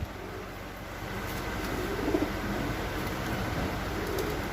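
Racing pigeons coo softly on a wooden stand, a low, steady murmur of calls repeating over a constant background hum with no one speaking.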